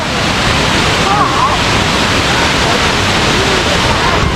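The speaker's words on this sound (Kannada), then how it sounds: "ಫಾಲ್ಸ್ ಬೀಳಂಗೆ ಎಷ್ಟು ಚೆನ್ನಾಗಿದೆ ನೋಡಿ" Kuang Si waterfall near Luang Prabang pours in a loud, steady roar of falling water, a broad continuous rush close by that fills the whole scene, with a voice speaking faintly beneath it.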